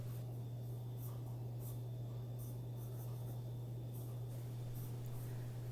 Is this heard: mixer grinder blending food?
no